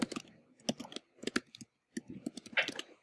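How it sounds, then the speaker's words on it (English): An article title is typed on a computer keyboard in short, close bursts of crisp keystrokes separated by brief pauses. "just type that article title in where it says article title"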